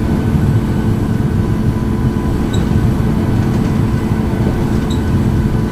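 A steady, loud, broadband engine roar from an airliner rolling down the runway for takeoff in the Infinite Flight flight simulator, continuous and unbroken, with two faint high beeps, no talking.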